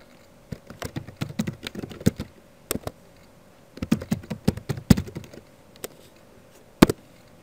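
Someone types on a computer keyboard, entering a blog name in quick irregular bursts of close, crisp key taps separated by short pauses, with no talking.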